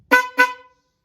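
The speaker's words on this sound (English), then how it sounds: "We got the new horn installed." A newly installed Toyota Yaris horn honks twice in quick succession, short bright blasts close by, then silence.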